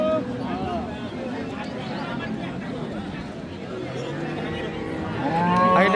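Friesian cows low at a cattle market in Ambari, Dinajpur, several drawn-out moos rising near the end over a busy background of people talking.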